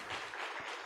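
A church congregation breaks into brief, fairly faint applause, a short wash of clapping lasting under a second.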